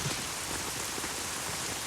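Steady rain falls throughout a night scene in a dubbed Jr NTR action film, a dense, even hiss of drops with no pauses or voices.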